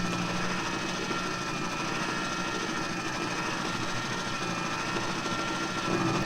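A cheap 12V wiper motor drives a pair of wiper arms, giving a steady, even electric whir with a faint mechanical buzz that runs unbroken at the same level throughout.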